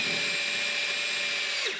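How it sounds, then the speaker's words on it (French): A power screwdriver drives a screw into an expanding wall anchor for a shelf bracket, a steady close whirring drone that holds for nearly two seconds, then tapers off at the end. "Je visse sur la deuxième cheville."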